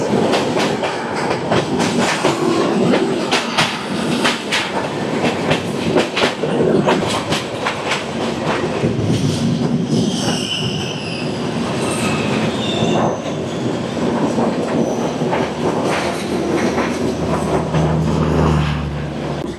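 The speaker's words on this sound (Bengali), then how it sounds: "এটা কন্যাকুমারী থেকে ডিব্রুগড় বিবেক এক্সপ্রেস।" Kanyakumari–Dibrugarh Vivek Express passing close by, a loud, steady roar of rolling wheels with rhythmic clickety-clack and brief squeals of wheels on rails throughout.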